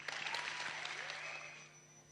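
Applause from an audience at the AFCON 2025 draw, a faint, distant wash of clapping that fades out within a couple of seconds.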